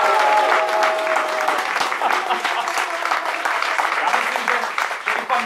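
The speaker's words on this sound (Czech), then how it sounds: "Možná tím potleskem, zkusíte to ještě jednou" Studio audience of about a hundred people applauding during a live Czech radio broadcast, steady dense clapping that fills the room and carries on throughout before thinning slightly near the end.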